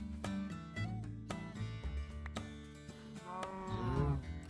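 Cows in the Minecraft video game moo in repeated overlapping calls over a busy background of game sounds and music, fairly loud and close, with a swelling low lowing near the end.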